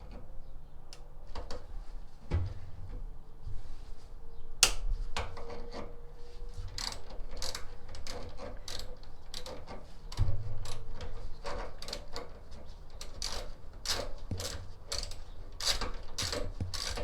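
Hand ratchet undoing a 10mm bolt on a diverter valve, making repeated close clicking and ratcheting strokes in an irregular rhythm over quiet background.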